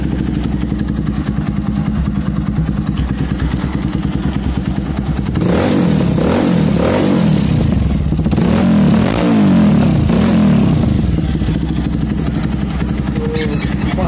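A Pulsar 220F motorcycle fitted with a newly installed SC Project aftermarket exhaust idles loudly and steadily up close, then revs in several sharp bursts midway before settling back to a throbbing idle, with no talk.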